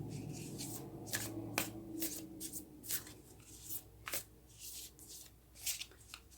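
Moonology oracle cards shuffled by hand in a run of soft riffling bursts and flicks, close and fairly quiet with a light room hum beneath and no talking.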